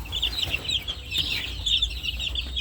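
Bulik chicks cheep and cluck in a continuous, busy chorus close by, with overlapping high peeps throughout.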